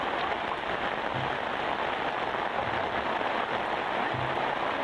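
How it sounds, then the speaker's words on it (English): Steady rain patters on a boat during a fishing trip, a dense, even hiss that continues throughout with no clear gaps. "Raining."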